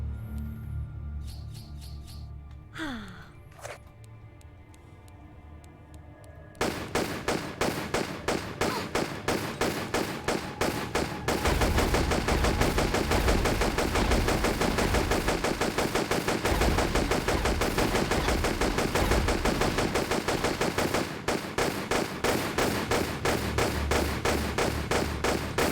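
Rapid, steady gunfire in a Tomb Raider level editor level set in a shipwreck begins after a few quiet seconds and small bird-like chirps, then continues as loud unbroken rounds with brief pauses.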